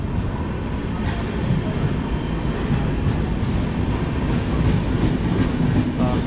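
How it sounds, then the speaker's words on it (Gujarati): Ahmedabad Yognagari Express arriving at a station platform, a steady loud rumble of rolling wagons with faint rhythmic clatter over the rails and no talk. "ચાલો ભાઈ ટ્રેન આવી ગઈ હવે. થોડી એવી લેટ આવી પણ આવી ગઈ."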